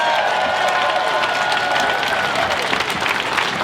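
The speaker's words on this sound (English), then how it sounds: "Let's give her a round of applause." A crowd at a 2020 Philadelphia protest rally applauds continuously with dense, steady clapping, and a few cheers and a voice are heard under it.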